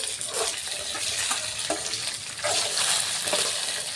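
Loud, continuous frying and sizzling as green chilli chutney ingredients and garlic cloves are stirred in hot oil in a pan, with stirring scrapes and no speech.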